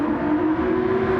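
A steady, high-pitched race car engine drone in a racing video game at Spa-Francorchamps, holding at a constant whine, loud and continuous for a brief moment.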